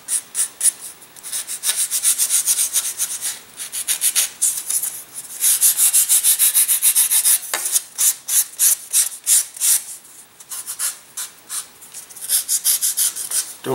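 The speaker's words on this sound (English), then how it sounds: "Don't sand this little nose thing down too much, because it's a little on the fragile side." A wooden model aircraft body being sanded by hand, heard as steady, rhythmic rasping strokes in quick back-and-forth bursts. Each stroke is loud and close, broken by brief pauses, with no talking.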